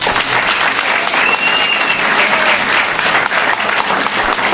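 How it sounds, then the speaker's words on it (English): Enthusiastic applause sweeps through the crowd at a sister city event between Maakhir University and North Central University, loud and continuous with faint whistles rising above the clapping. "So that is worth a hand clap."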